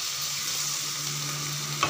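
Chicken sizzles and fries steadily in oil with yogurt in a nonstick pan, a continuous close hiss with a brief clink of stirring near the end.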